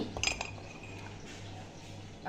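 A spoon beats instant coffee in a glass, a few light clinks of metal on glass at first, then soft steady whisking that stays faint.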